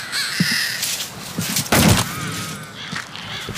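A crow caws a few times in the horror game Lies Beneath, set against a low ambient background with a louder thud-like burst in the middle.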